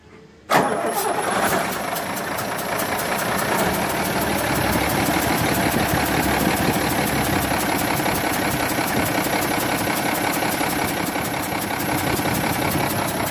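A heavy truck engine with a mosquito-like whine cranks and catches abruptly, then settles into a loud, steady, rattling idle with a faint high whine above it.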